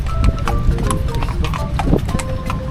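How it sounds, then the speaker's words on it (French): Horses walk along a street in Marrakech, their hooves clip-clopping in an uneven, overlapping rhythm close by, with background street noise underneath. "Des chevals. Les gros chevals qui vont."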